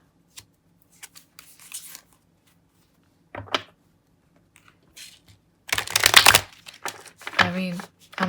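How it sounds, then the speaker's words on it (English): A Mystical Tarot deck gets handled and shuffled, scattered light taps giving way to a couple of dense, rustling bursts of cards sliding together, with someone talking in between. "Let's try to shuffle this one."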